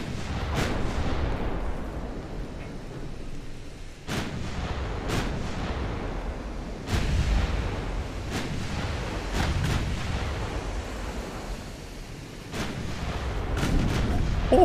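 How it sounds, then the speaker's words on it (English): Tank cannon fire in a video game, high-explosive shells booming repeatedly at irregular intervals, each a sharp loud blast with a rumbling tail over steady low engine-like background noise. "Why are we shooting with HE?"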